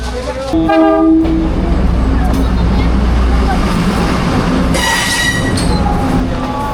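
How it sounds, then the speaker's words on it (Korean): A train in Taiwan rumbles past with a steady, loud roar, brief horn toots near the start and a high metallic squeal of wheels partway through. "어 기차 찍고 와"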